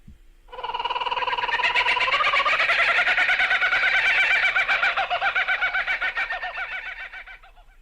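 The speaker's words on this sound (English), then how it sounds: "Kookaburra." A kookaburra gives its full laughing call, a loud, close cackle that swells into rapid rolling chuckles and then slows and fades over several seconds.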